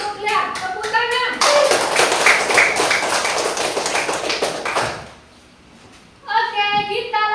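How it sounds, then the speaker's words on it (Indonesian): Children clapping hands together in a classroom, a dense burst of applause lasting several seconds, close and loud, with children's voices before and after and a short quiet gap. "Tepuk tangan."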